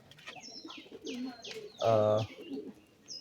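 Pigeon cooing close by as it comes to settle on its eggs, a series of soft low coos with one louder, fuller coo in the middle, plus faint chirps in the background.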